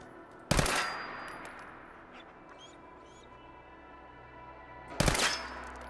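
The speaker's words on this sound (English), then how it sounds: "Sounds like I'm shooting metal." Gunshots striking metal in Fallout 4, two sharp loud impacts several seconds apart with a low hum of game ambience and faint clicks in between.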